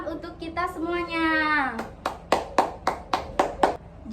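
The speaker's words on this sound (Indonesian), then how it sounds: "Tepuk tangan untuk kita semuanya." A class of children claps in a quick, even burst of about eight claps, heard right after a singing voice trails off.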